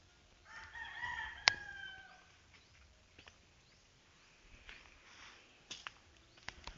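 A rooster crows at a distance early on on a hillside farm, followed by quieter background sounds and a few sharp knocks.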